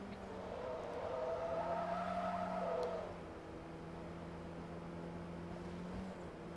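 An old Volkswagen GTI in Forza Motorsport 2 drones along with a steady engine note that rises and holds, then settles to a lower, even hum, heard alone at moderate distance.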